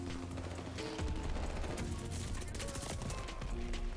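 Gold Sten submachine gun in Call of Duty: Vanguard firing rapid, sustained automatic bursts, close and loud, with gunfire layered densely throughout.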